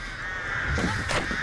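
Crow cawing in the Dead by Daylight video game, a couple of harsh caws in quick succession above a steady droning game ambience.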